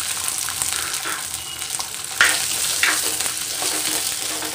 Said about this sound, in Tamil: நம்ம சின்ன வெங்காயத்தை ஆட் பண்ணிக்கிறோம்.